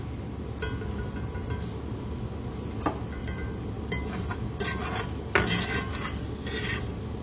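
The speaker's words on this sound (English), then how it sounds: "Just keep stirring it. Don't leave it, okay? You want to stir it." A roux being stirred in a pot, with a continuous scraping and rasping of a utensil against the pot bottom and occasional sharper clinks, fairly close and steady, with no voices.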